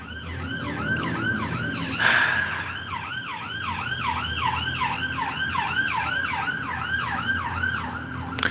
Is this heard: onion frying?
no